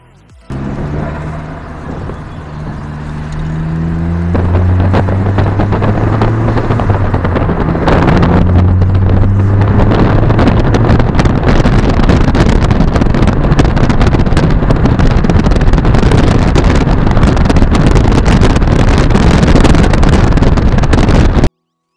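Project car, a Mazda MX-5 or Toyota FR, driven on the road after failing its MOT, with a steady loud engine drone and heavy wind rumble throughout, close and continuous.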